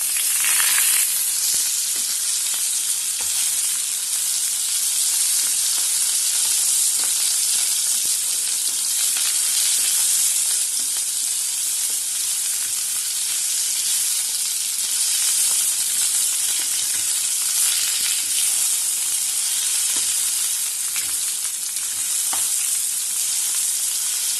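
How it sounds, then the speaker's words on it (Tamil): Ridge gourd peel sautés in hot oil in a pan, giving a loud, steady frying sizzle that holds almost unchanged throughout, with faint stirring scrapes now and then and no voices. "இப்போ இந்த தோலை பீர்க்கங்காய் தோலை இதில் போட்டு நல்லா வதக்கணும்"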